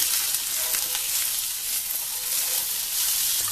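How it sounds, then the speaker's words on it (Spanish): Zucchini, leek and carrot sauté in a pan over high heat, giving a steady, even hiss of sizzling close up with faint stirring scrapes and no talking. "Ya podemos subir el fuego y saltearlo"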